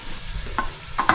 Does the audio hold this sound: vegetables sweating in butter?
yes